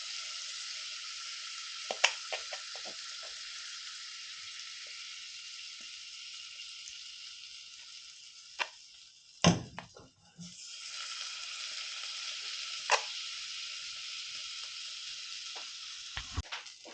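Butter sizzles steadily in a hot pan at the start of cooking sisig, a broad continuous frying hiss with a few sharp clatters and brief knocks from the pan and utensils.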